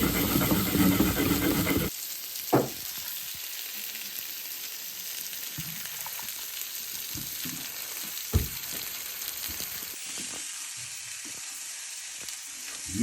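Jamaican fried chicken sizzles steadily in a hot pan, a dense bright hiss of frying oil with a few faint pops and knocks over the constant crackle.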